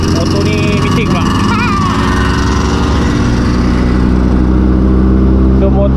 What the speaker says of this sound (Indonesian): Sorry lah, motor ni bising pula.